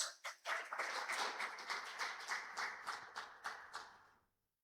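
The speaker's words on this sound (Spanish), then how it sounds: "Dele un fuerte aplauso al Señor." Congregation clapping in church, a quiet round of rhythmic hand claps with distinct beats running for a few seconds before stopping abruptly.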